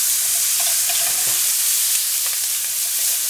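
Onions frying in a pan while beef shanks in burgundy are being made: a loud, dense, continuous sizzle close up, with a few faint scrapes partway through and no voices.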